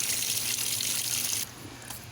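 Water pours steadily into a reconditioned Maytag Centennial top-load washer as it fills, a continuous rushing gush that drops a little in level partway through, with no voices.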